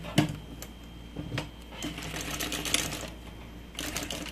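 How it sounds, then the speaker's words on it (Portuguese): A sewing machine stitching fabric, with short bursts of rapid mechanical rattling separated by brief pauses and clicks, close and moderately quiet. "agora eu começo a costurar aqui de baixo"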